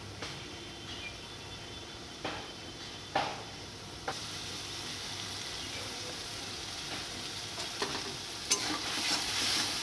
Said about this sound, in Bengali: দেওয়ার পর আবার নাড়াচাড়া করে নেব এর মধ্যে দিয়ে দেব হলুদ গুঁড়ো আর লঙ্কার গুঁড়ো